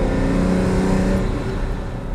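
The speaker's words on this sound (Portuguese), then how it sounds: "E agora eu consigo ouvir a parte de indução, porque a gente está andando com o escapamento no módulo civil, no módulo com a válvula fechada." Ferrari GT driven with its exhaust valve closed in the quiet civil mode, letting a steady engine and induction hum come through from inside, a continuous low drone that eases slightly toward the end.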